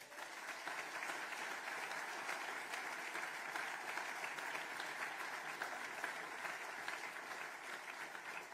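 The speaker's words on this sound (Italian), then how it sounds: "un grande ringraziamento e un grande applauso" Sustained applause from a crowd at a Lega political rally in Friuli Venezia Giulia, an even, continuous roar of clapping heard from a distance and fairly faint, without a break across several seconds.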